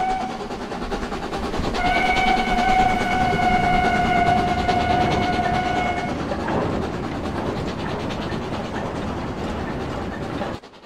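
Highland Railway Jones Goods steam locomotive in Train Simulator 2020, rolling with a continuous rumble and rail clatter while a sustained whistle sounds for several seconds near the start.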